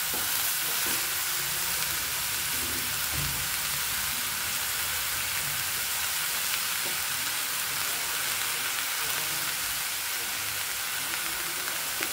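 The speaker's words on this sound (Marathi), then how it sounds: "फास्ट गॅसवरती ही भाजी करून घ्यायची आपल्याला" Vegetables for veg spring rolls stir-frying over a high gas flame, an even, loud, continuous sizzle and hiss with light stirring sounds.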